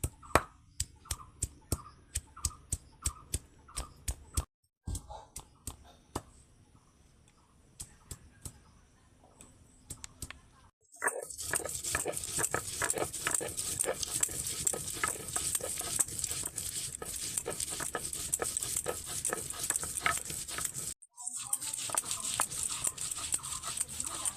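Ginger and green chilli are worked on a stone grinding slab with a stone pestle, first crushed with a run of sharp, rhythmic knocks, then ground with a continuous, close, gritty rolling scrape that goes on for several seconds.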